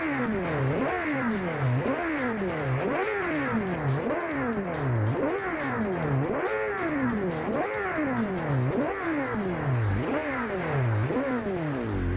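A Honda CB600F Hornet motorcycle (2006, modified) revs repeatedly in steady rising and falling sweeps, loud and close, continuing without pause.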